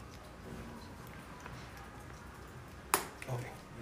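A small plastic accessory clicks into place on a Converse shoe in a retail shop, one sharp snap followed by a faint second tick, over low background room noise.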